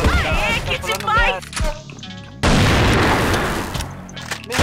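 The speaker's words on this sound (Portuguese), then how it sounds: "Olha a bomba!" A bomb goes off in the game CrossFire: after a stretch of speech and game noise, a loud blast hits suddenly and leaves a broad rumbling roar that slowly fades.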